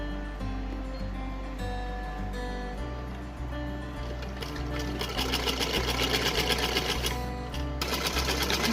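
A sewing machine runs in a steady, continuous whir as it stitches along the bottom corner of a small summer night-suit outfit for a Bal Gopal idol. The motor hum is close and even, with a slightly busier, rattling texture toward the end.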